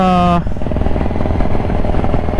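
A Kawasaki Ninja 1000SX ridden on an open highway, its engine droning steadily under heavy wind rush, loud and continuous, after a short tonal beep at the very start.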